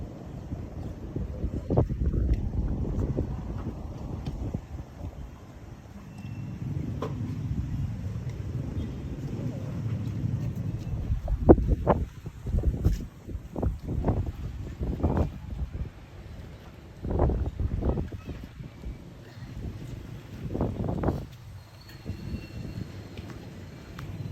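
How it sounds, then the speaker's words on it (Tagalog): Gusty typhoon wind in Coron, Philippines roars and buffets the microphone in uneven surges, rumbling low and loud with brief louder bursts throughout. "Lakas na ang hangin eh."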